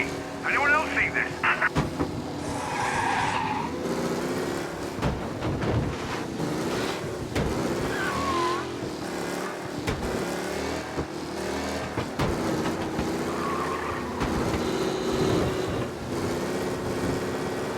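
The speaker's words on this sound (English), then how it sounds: "Officers reporting a race car driving at speed through the city" In Mafia: Definitive Edition, a race car speeds through city streets, its engine revving and surging with tire squeals, mixed with voices talking over the action and occasional gusts of wind noise.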